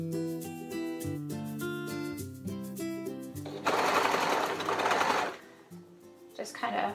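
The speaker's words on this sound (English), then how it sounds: "Now, we always are gonna have the cuff going around the presser foot as we sew." A serger sewing machine stitches a neckband cuff around the presser foot, with dense rapid stitching running steadily near the mic; it surges louder midway and then stops, while a person talks over the start and the end.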